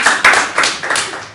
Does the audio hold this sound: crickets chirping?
no